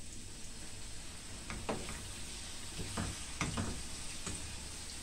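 Pickled green beans with red hot pepper fry in a pan, giving a steady close sizzle with a few stirring scrapes and clicks and no talk.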